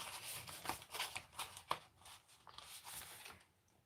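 Scissors snip and rustle through paper as words are fussy cut for a craft project, quiet close crisp cuts in an irregular rhythm with soft paper handling between.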